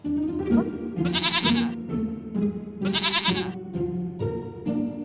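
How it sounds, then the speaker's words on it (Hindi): A small goat kept inside a house bleats twice, each call loud, close and wavering, with a steady low background drone between the calls. "ये तो प्यारी सी बकरी है"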